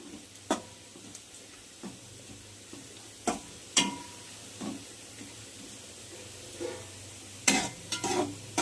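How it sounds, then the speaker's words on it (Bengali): Onion, garlic and dry chili fry in a pan under a soft, constant sizzle, broken by sharp scraping clicks from a spatula at irregular intervals. The sound is close, and no one speaks. "পেঁয়াজ, রসুন, শুকনো লঙ্কা ভাজা ভাজা হয়ে গিয়েছে।"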